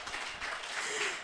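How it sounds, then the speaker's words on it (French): Brief, fairly faint audience applause after a presentation at a training certificate ceremony, a short continuous patter of clapping in a room. "On applaudit."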